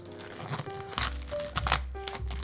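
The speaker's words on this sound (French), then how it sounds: "Ouvrons le packaging, c'est quand même le but de la vidéo." Plastic wrap on a 4K steelbook of Charlie et la Chocolaterie is torn open, giving close crinkling and sharp ripping bursts in quick, uneven spurts.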